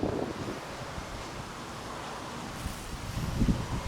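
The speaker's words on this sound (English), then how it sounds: "Okay, the wind picks up." Strong wind gusts roar across an outdoor microphone during a high-wind flight test of a DJI Mavic Pro drone, a steady buffeting rush that swells louder near the end.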